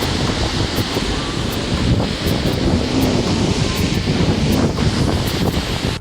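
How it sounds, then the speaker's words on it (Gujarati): A waterfall roars steadily and loudly, a dense continuous wash of rushing water with no voices. "અહીંથી પાણીનો અવાજ બહુ આવે છે"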